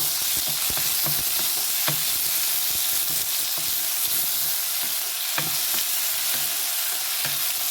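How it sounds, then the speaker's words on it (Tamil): Tomatoes fry in a pan for a tomato, chili and potato curry, giving a constant close sizzle broken by scattered clinks and scrapes as a utensil stirs them. "இப்போ தக்காளி பழம் போடுறேன் தக்காளி பழத்தை மேலே சேர்த்துல எடுத்து போடுறேன்"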